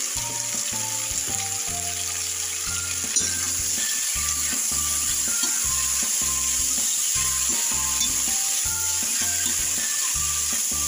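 Potato and capsicum sabzi frying on a slow flame, a steady close sizzle that holds for the whole stretch, with a repeating musical backing over it and no talk.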